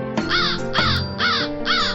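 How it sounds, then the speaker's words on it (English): A crow caws four times in an even rhythm, each call harsh and loud, close and clear with no other sounds. "Crow."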